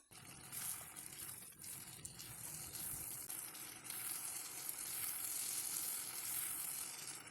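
Ground tomato being sautéed in oil in a pan over a medium flame for Mughlai chicken handi, giving a steady, continuous sizzle and crackle that runs the whole time at an even, moderate level with no voices.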